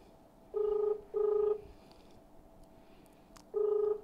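Telephone ringback tones while a call is placed, three steady electronic beeps in a regular ring pattern, clear and alone over quiet background hiss.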